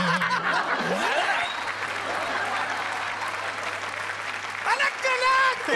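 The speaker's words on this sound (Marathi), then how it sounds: "कडक दे टाळी." Studio audience applause during a Marathi TV comedy show, a dense steady patter of clapping lasting several seconds with voices and a little laughter mixed in.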